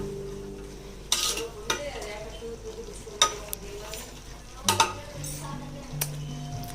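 Tomato bath cooking in a pan, with a soft continuous sizzle punctuated by sharp metallic clinks and scrapes of a spoon stirring against the pan, irregularly spaced through the clip.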